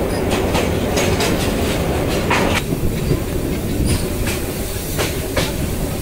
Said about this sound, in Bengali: ট্রেন প্রবেশ করলো ময়মনসিংহ রেলওয়ে জংশন স্টেশনে